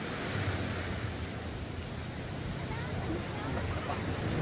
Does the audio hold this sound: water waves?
yes